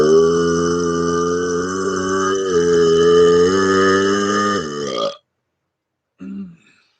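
A long, low, rattling burp drawn out for about five seconds, loud and close, followed by a brief second short burp after a pause.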